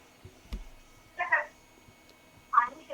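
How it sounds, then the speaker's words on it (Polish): A cat meows in short, separate bursts, two clear mews a second apart over faint background noise, with a soft thump just before. "Kot! O, kot!"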